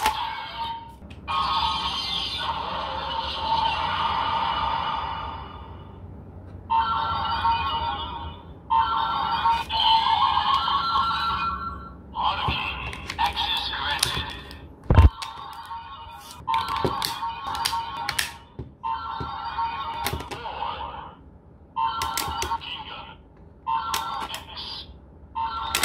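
Ultraman Z Riser transformation toy with an inserted card and Ultraman Geed Galaxy Rising medals plays a run of electronic sound effects and announcements in choppy, evenly spaced bursts, fairly loud and close, with a sharp click midway.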